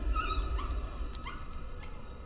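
A dog in the horror game Layers of Fear whimpers and yips in short, high, plaintive cries over a low, rumbling ambient backdrop, with no talking.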